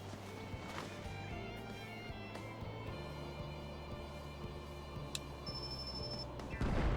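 Artillery cannons fire in the video game Final Fantasy XIV as a series of soft, dull booming thuds in a fairly regular beat under a quiet battle backdrop, ending with a louder burst.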